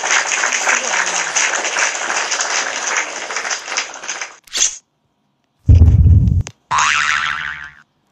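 Several seconds of steady, crowd-like clapping from a TikTok Live applause sound effect, then silence broken by a short springy boing and a couple of loud, close bursts.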